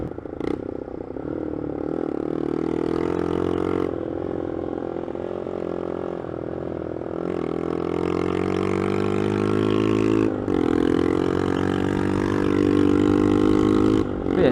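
A motorcycle ridden hard, its engine note climbing and holding under load with steady loud roar, shifting pitch through several gear changes, close and continuous without voices.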